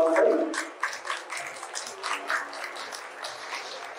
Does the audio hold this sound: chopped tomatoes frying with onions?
no